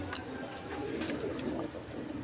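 Lahori pigeons cooing at a pigeon seller's, a steady run of low, soft coos over a busy noisy background, close and continuous with no talking.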